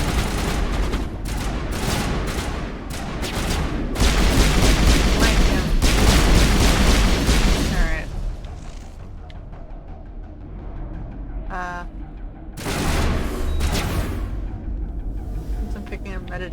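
Rapid bursts of gunfire from the video game Mass Effect crackle densely for about eight seconds, loud and layered like heavy automatic fire, then thin to scattered shots and rumbles, with a fresh volley near the end.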